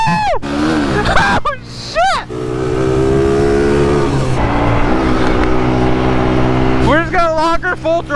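A motorbike in a video game runs at full throttle, its engine revving sharply in rising whines and then holding a loud steady drone, with a voice talking over parts of it.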